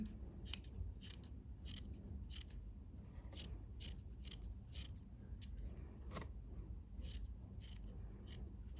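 Scissors snip again and again in a steady rhythm, close by and quiet, trimming away excess material while cutting a shape.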